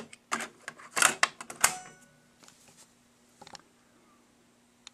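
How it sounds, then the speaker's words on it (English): A cassette tape pushed into a Tascam 112 mkII cassette deck, a burst of close plastic clatter and clicks as the door and mechanism engage, then a few faint clicks afterward. "Put a tape in."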